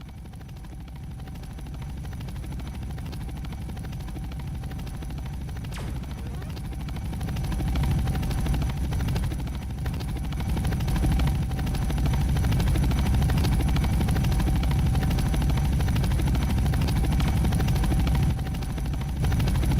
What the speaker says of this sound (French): Il y a mon hélico, il m'attend.